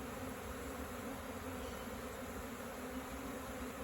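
A honey bee swarm buzzing densely around hive frames, a steady close drone with no pauses or voices throughout.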